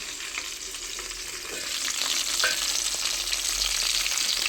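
Fried chicken pieces for biryani sizzle in a pan, a dense, steady hiss of frying oil that swells slightly louder midway as they are stirred, close, with no talk.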